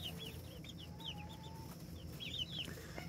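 Hens clucking inside a coop, a flock of six including a black hen, giving repeated soft, close clucks and short calls over a steady low background hum.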